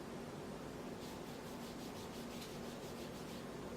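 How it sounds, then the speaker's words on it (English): Fingers rub eyeshadow off the skin of an arm, a soft, steady close-up friction hiss that swells into faint repeated strokes partway through, with no speech. "I have to rub a little bit to get it off"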